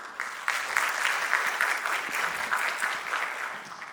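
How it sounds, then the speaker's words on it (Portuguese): A conference audience claps steadily for a few seconds, a full round of applause that fades slightly at the end. "Uma salva de palmas."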